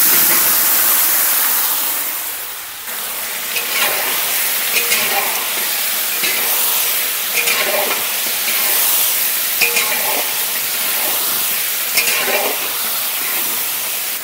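Potatoes dropped into hot oil with five-spice for khichuri, a loud rushing sizzle that swells, dips briefly, then settles into steady frying with repeated stirring scrapes and clinks.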